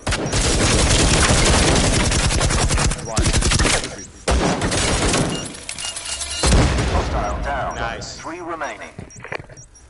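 Rapid bursts of video game gunfire and explosive impacts crackle loud and close in a shooter match, dense volleys for several seconds, then scattered shots and debris, with players talking over the action.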